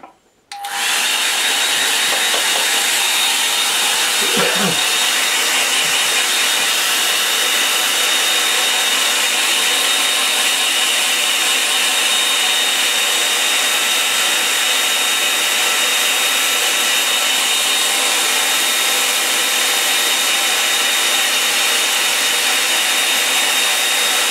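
A hair dryer switches on with a sharp start and then blows a loud, steady, unbroken rush of air over a black ink and sepia painting, close by and running on its own.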